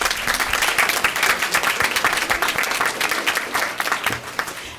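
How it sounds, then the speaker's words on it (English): Sustained audience applause at the close of an evening school board of education meeting, dense steady clapping from many hands filling the room and easing slightly near the end, with no talk over it. "Could we give them one more round of applause?"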